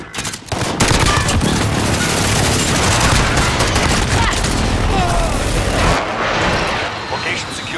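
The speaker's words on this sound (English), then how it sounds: "Calling in airstrike. Strike inbound." Airstrike explosions and dense gunfire fill a video game battle, a loud, continuous roar of booms and rapid shots that barely lets up before easing slightly near the end.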